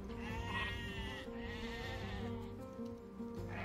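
Sheep bleat in Age of Empires II: Definitive Edition, a few short bleats close up over a steady wash of in-game sound.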